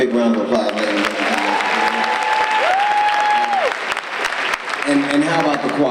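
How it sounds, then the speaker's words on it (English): Loud applause from a large audience at an MLK Day 2017 comedy show continues throughout, with someone talking over the clapping and a brief sustained tone in the middle. "Give them a big round of applause, ladies and gentlemen."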